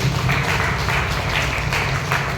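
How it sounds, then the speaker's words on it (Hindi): An audience at a business success-stories event claps for itself, a dense, even patter of many hands lasting a couple of seconds, moderately loud with no talk on top. "काफी लोग हैं, एक बार अपने लिए जोरदार ताली।"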